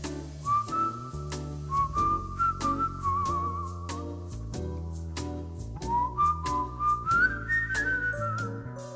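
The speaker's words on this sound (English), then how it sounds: "he still whistled in the thing" A man whistles a melodic tune in a recording booth: clear, sustained pitched notes that glide between phrases over a backing of piano or keyboard chords and bass.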